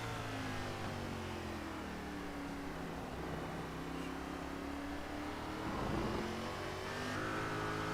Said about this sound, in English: He goes through the gears. Down the long straightaway into turn 12,